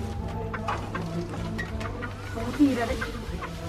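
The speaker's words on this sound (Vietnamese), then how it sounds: "Bắt con gà." A chicken being caught indoors near Sapa, Vietnam, gives a few short clucks that rise briefly above steady background hum while people talk over it.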